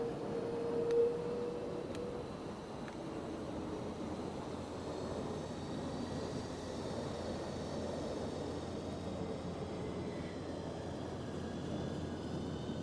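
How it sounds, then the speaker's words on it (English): Simulated aircraft engines, from a C-130 Hercules or A400M Atlas flight simulation, roaring steadily after landing, a continuous broad drone with a faint whine and no talk. "Got pretty loud roar engines."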